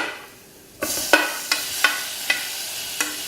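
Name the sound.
tomatoes added to the pan for Uppuma, frying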